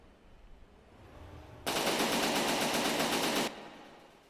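Assault cannons firing in a naval combat video game, one sustained rapid burst lasting about two seconds, loud and dense like a machine gun against quiet background noise.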